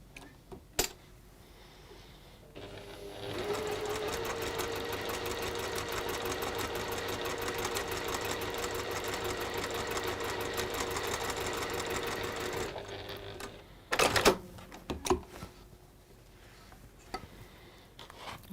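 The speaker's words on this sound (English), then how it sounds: "And we're going to sew now on that line." A sewing machine stitches fabric along a drawn line in a quiet workshop, a rapid, even mechanical chatter running steadily for about ten seconds, framed by a few sharp clicks and handling knocks before and after.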